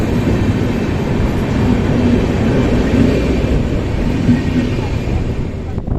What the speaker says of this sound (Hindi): और अपनी दुरंतो एक्सप्रेस निकल गई निज़ामुद्दीन की तरफ।